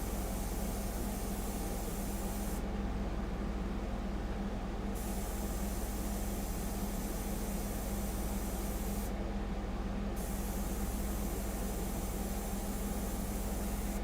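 An airbrush sprays a medium mixture onto a portrait, a soft continuous hiss close by that cuts out briefly twice as spraying pauses and resumes.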